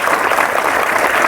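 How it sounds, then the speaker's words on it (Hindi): Loud, dense applause from an audience at a Guwahati recognition event, a brief continuous burst of clapping with no gaps. "तो एक बार जोरदार तालियां हमारे इन महान हस्तियों के लिए दिल से"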